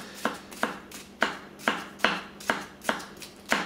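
Kikuichi Swedish Warikomi Damascus gyuto knife cutting on a board, nine crisp evenly spaced chops about every 0.4 seconds, close and distinct with no voices.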